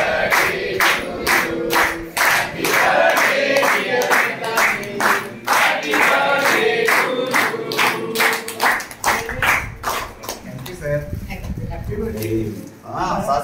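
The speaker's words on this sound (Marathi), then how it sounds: "जोरात टाळ्या वाजवायच्या त्यांच्याकडे आपण शुभेच्छा देणार आहोत" A classroom of children clapping loudly and in rhythm for a birthday celebration, sharp repeated claps at a steady beat, close and dense, thinning and turning ragged toward the end, with voices mixed in.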